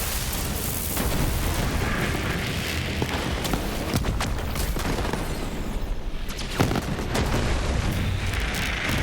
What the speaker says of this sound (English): You can see the dual shots from that Infernal Wish is really sweet